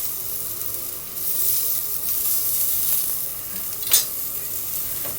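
Courgettes fry in a pan with a steady close sizzle and hiss, with a brief sharper crackle as they are stirred.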